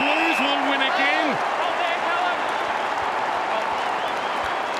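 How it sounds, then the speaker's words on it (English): A big crowd at an AFL match between Carlton and St Kilda roaring and clapping as the game is won, a loud, sustained wall of cheers and applause, with a commentator's voice briefly heard at the start. "Listen to this crowd."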